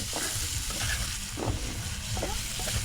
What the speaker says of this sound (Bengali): টমেটোটা দিয়েও আমি বেশ কিছুক্ষণ কষাবো যাতে টমেটোটা একদম গলে যায়